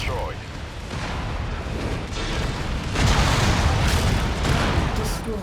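A mech blows up in MechWarrior 5: Mercenaries with a dense, rumbling roar of blasts and crackling debris that swells louder partway through and holds steady, big and close, with nothing else clearly standing out.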